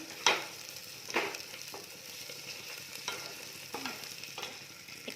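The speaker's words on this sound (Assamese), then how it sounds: "লৰাই দিম অলপ।" Chole masala with chunky ginger and green chillies sizzles in a pan while a spoon stirs it. Several distinct scraping strokes land at a steady, unhurried rhythm over a faint frying hiss.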